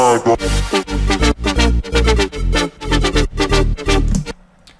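A layered saw-wave synth patch with seven unison voices, phaser, OTT, reverb and delay, playing a loud rhythmic run of bright stabbed chords that ends with a short reverb tail.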